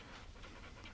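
A dog panting close by after a long trip, a fast rhythmic breathy huffing that carries on steadily from start to end.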